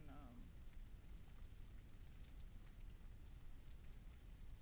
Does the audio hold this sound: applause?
no